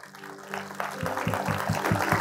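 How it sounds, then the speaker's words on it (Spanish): A church congregation breaks into applause after a call during a sermon, clapping building from sparse to a steady, moderately loud round of hands. "Un aplauso para Jesucristo,"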